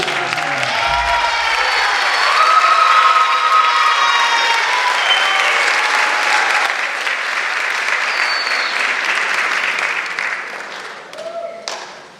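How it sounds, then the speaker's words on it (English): Sustained applause from a crowd with scattered whoops and cheers, loud throughout and gradually thinning toward the end. "Can we get another round of applause?"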